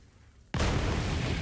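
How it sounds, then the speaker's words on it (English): A grenade goes off among barrels in a Borderlands game, a sudden loud blast that cuts in after brief quiet and holds as a broad roaring rumble. "there's no way that grenade doesn't set off those barrels"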